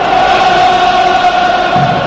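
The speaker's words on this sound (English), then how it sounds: "And you can hear the anthem once again." At a USA vs Wales football match, a large stadium crowd sings the anthem as a loud, steady, sustained roar with a held sung tone, heard from a distance as one continuous mass of voices.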